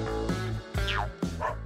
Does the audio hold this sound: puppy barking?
yes